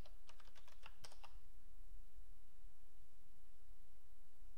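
A short burst of computer keyboard typing, several quick light clicks close by, gives way to a steady background hiss for the rest of the clip.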